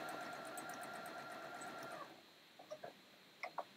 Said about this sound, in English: I'm just going to run a little line of stitches.